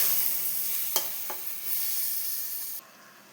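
Ground paste of mustard, poppy seed, cumin, coriander, chili and turmeric hitting a hot pan, a steady close hiss of frying with a couple of brief stirring knocks before the sizzle drops away near the end.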